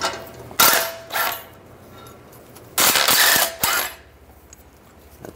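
A ratchet with a 14 mm socket works the exhaust bolts on a 2004-2009 Toyota Prius catalytic converter, giving loud bursts of rapid metallic clicking, two short runs then two longer ones, close up over a low background hum.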